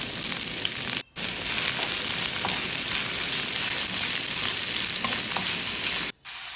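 Ginger, curry leaves and onion frying in hot oil give a loud, constant crackling sizzle, broken twice by very short drops into silence.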